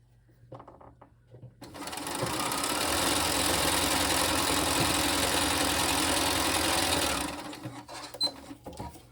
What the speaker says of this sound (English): I can sew a 1/4 inch seam.